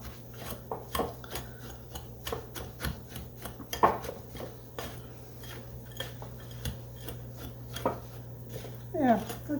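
Pecans are chopped with a knife on a board for a rhubarb-raspberry crisp. Quick irregular cutting taps and scrapes sound close over a steady low hum, and the clip has no talking.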